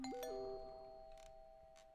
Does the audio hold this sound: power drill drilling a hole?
no